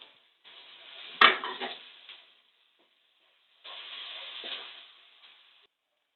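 Chopped tomatoes go into a hot pan for breakfast noodles: a sharp clatter, then a short sizzle, silence, and a second quieter burst of frying hiss.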